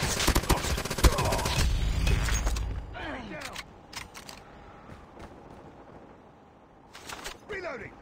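An automated sentry gun in a video game fires rapid bursts, loud and dense at first, then fading into scattered sporadic shots and clicks, with soldier voices calling out between the gunfire.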